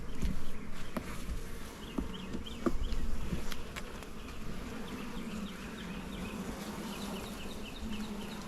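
A honeybee swarm hums steadily inside an open hive box during an inspection, a dense close buzz with individual bees droning past, and faint bird calls in the background.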